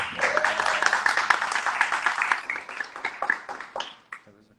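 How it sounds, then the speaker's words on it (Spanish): Audience applause for a guest being introduced at a LGBTQIA rights event, a burst of clapping that builds and then tapers off over a few seconds, fairly close. "Un aplauso para Zeta."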